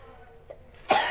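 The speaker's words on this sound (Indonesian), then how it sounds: "Ya, batuk dah." A single sharp cough near the end, close and fairly loud, after a stretch of near-quiet.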